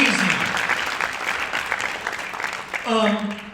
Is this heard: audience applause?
yes